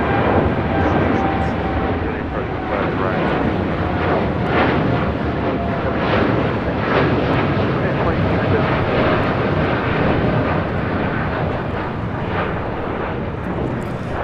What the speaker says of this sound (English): 2217 taking off to Denver, Colorado on the 787-9 Dreamliner